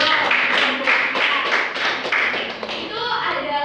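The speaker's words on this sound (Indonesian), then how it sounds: "beri tepuk tangan dulu" Classroom applause from students, a burst of many hands clapping steadily and fairly close, filling the room for a few seconds at even loudness.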